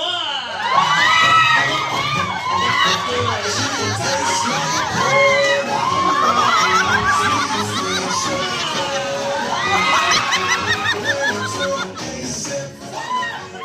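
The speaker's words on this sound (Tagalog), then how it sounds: "palakpakan po natin siya na may kasamang hiyawan" Party guests at a McDonald's birthday party cheer, whoop and shout loudly in a welcome for a model, with children's voices and laughter mixed into a sustained crowd roar that swells and dips.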